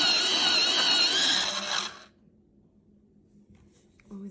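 A Bostitch Office Personal Electric Pencil Sharpener grinds a pencil with a steady, loud whirring buzz for about two seconds, then stops abruptly, followed by quiet handling.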